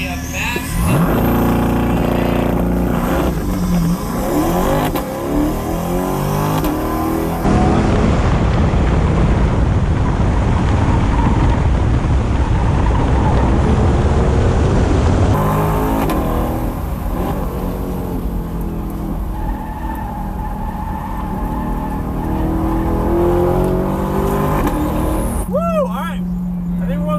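A BMW X5 drag race at the Freedom Factory: loud, sustained engine roar and rising revs, with heavy wind buffeting throughout and a sharper engine whine near the end.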